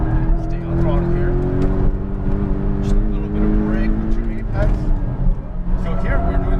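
A Porsche Cayman GTS engine accelerates on a race track, a loud steady drone with climbing harmonics and a brief dip at a gear shift, while someone speaks over it throughout.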